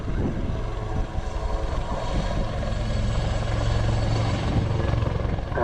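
Aircraft performing a slow spinning display along the line at Cosford Airshow, a loud continuous rotor-like engine drone with a steady low throb that holds constant throughout, with no voices.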